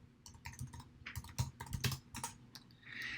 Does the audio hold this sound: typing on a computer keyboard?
yes